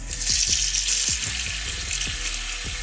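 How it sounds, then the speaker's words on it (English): Tap water runs hard into a cooking pot being filled to soak great northern beans, a loud steady splashing rush with repeated hollow knocks and clunks as the pot shifts. "Next, you're going to want to put them in about 6 to 8 cups of water."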